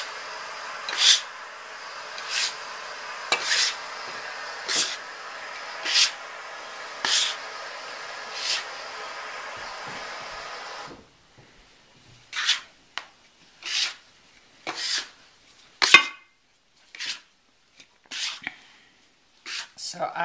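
White bread flour dough kneaded by hand with a dough scraper, giving repeated soft rubbing, rasping scrapes in a steady rhythm close up, then shorter sharper scrapes after a pause.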